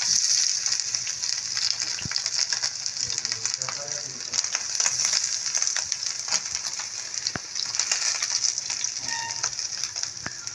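Chicken frying in a pan with very little oil, a steady bright sizzle with faint crackles and occasional clinks, continuous and close.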